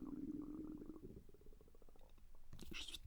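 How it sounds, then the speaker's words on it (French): Quiet, low gurgling stomach rumbles from a person's belly, close and faint, followed by a brief sharper crackle at the end. "mon ventre qui gargouille"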